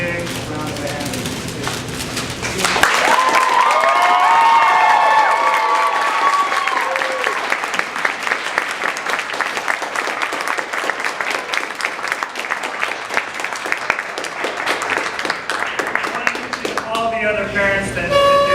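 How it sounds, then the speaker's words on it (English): Sustained audience applause after a children's performance of The Tempest, a dense, loud burst of many hands clapping that swells in and carries for long seconds, with cheers and voices mixed in and talk at the edges. "I want you guys to give them a big round of applause"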